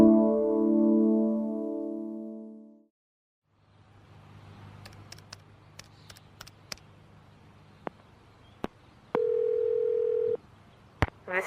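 A telephone dial tone hums steadily for a few seconds before a collect call, then cuts off to quiet line noise with scattered clicks and a short, lower, steady tone.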